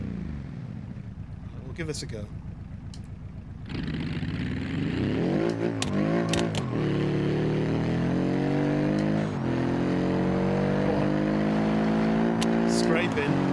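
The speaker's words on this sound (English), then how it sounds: "Sounds like it's a diesel." A diesel car engine in the BeamNG driving game, revving loudly and steadily with a rising, droning pitch, while a person talks briefly over it.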